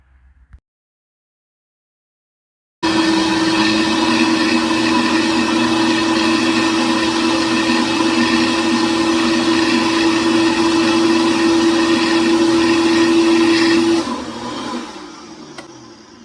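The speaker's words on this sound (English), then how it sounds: "Using the tamper here allows us to use less liquid and push the fruit onto the blade so that it will blend a little bit more smoothly." A blender whirs loudly and steadily for about eleven seconds, pulverizing frozen fruit for a thick smoothie bowl while a tamper pushes it onto the blade. The steady motor tone eases off at the end, with no talking.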